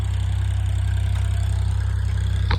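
A farm tractor engine runs at a steady low idle, its deep even throb continuous and fairly close, with a faint brief clatter near the end.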